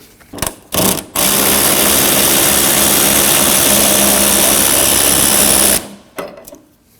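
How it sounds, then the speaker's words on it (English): A power ratchet with a 13 mm socket whirs steadily for several seconds as it backs out the hood hinge bolts on a 2015-2022 Chevrolet Colorado, preceded by two short, loud bursts close by. "We can remove the bolts using a 13 millimeter."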